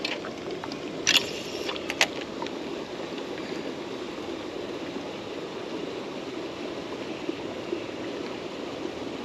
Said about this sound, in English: water's just flying out of there, just gushing out of there